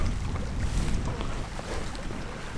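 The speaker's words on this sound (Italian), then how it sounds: "che c'è super vento" Strong wind gusting across a mountain lake at Cima d'Asta, a loud, steady roaring rush with buffeting against the microphone and no voices.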